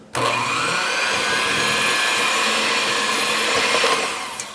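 A mixer runs on low speed through sesame cookie dough, giving a steady, close whirring motor drone that holds even from start to finish and eases off slightly at the end.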